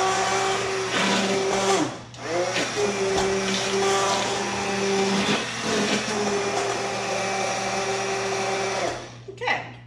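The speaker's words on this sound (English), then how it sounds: "I'm going to quickly run our submersion blender again" A handheld immersion blender whirs loudly in bursts, its motor pitch dipping and rising as it works through thick lasagna sauce, with brief pauses between runs.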